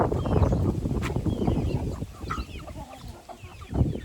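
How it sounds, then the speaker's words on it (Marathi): Chickens being fed cluck and mutter close by in a busy, scratchy jumble of short calls and rustling, with a few sharper clucks standing out. "कोंबड्याला खाया टाकले कोंबड्या माया मागत चालतात"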